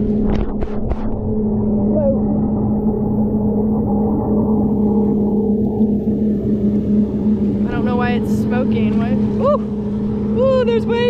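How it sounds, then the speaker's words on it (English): A motorboat passes nearby on a lake, its steady engine drone and water rumble holding throughout, with people talking close by over it. "There's a boat next to us."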